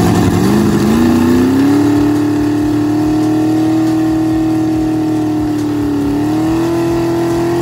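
A Chevy Nova drag car with a stock 10-bolt rear end does a burnout at a dragstrip, its engine holding a loud, sustained high-rev drone that rises early and dips briefly near the end.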